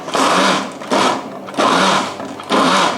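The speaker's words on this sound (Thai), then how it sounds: "เราจะปั่นไปเรื่อยๆจนเครื่องแกงหมด" Blender grinding Thai curry paste for mushroom curry noodles, roaring loudly in four short bursts of about half a second each, separated by brief dips, close up with no speech.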